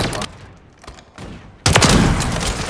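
Rapid bursts of sniper rifle fire through a wall in a shooter video game, loud and close, with a dense blast of shots and impacts in the second half after quieter clicks.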